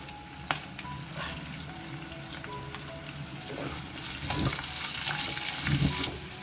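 Onion and curry leaves fry in a pan with a soft, steady sizzle and faint stirring scrapes, growing a little louder near the end, with no voices.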